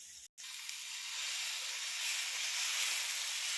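Dosa batter spread on a hot pan for a breakfast of dosa with peanut chutney, giving a loud, steady, bright hiss that builds slightly after a brief silence at the start, close and continuous with no talking.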